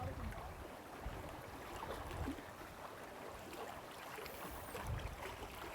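Faint, steady water sound, a soft continuous wash like a gently flowing stream or lapping water, quiet and unbroken with no talk.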